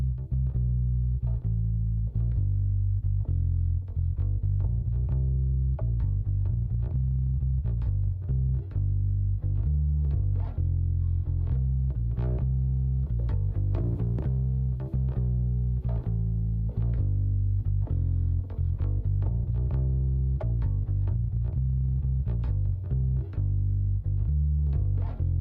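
Thick distorted bass guitar plays a steady low riff throughout, gritty and constant in loudness, with no voices.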